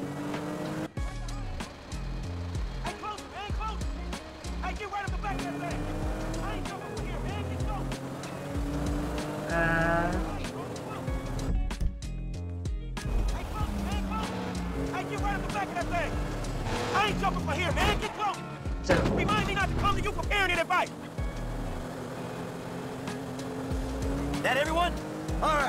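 A struggling boat engine in GTA V rumbles and sputters with uneven, wavering tones and splashing water. It carries on for the whole stretch while people talk over much of it.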